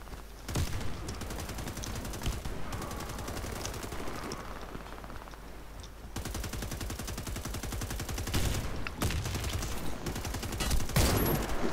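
Sustained rapid gunfire in a first-person shooter video game, dense automatic bursts with a reload pause, loud and continuous throughout, with no talking.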